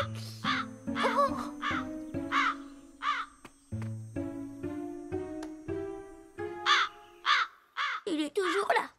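Cartoon crow cawing repeatedly in loud, harsh bursts, mixed with a voice that mimics the caws, ending in a flurry of rapid calls.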